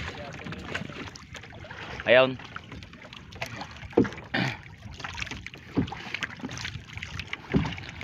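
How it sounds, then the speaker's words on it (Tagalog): A fishing boat approaches across open water with its engine droning steadily under gusty wind noise on the microphone. People talk nearby with occasional louder exclamations. "Yan, parating na ba yung bangka ngayon."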